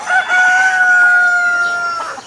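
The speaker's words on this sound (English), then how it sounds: "Mostly chickens." A rooster crows loudly and close by, one long drawn-out cock-a-doodle-doo lasting about two seconds, with no other sounds.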